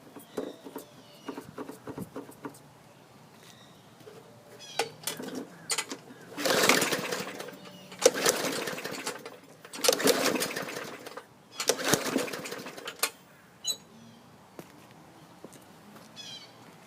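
Small lawn equipment engine being cranked without starting: several short bursts of pull-start rattling and churning a few seconds apart, moderately close, with quiet pauses between attempts.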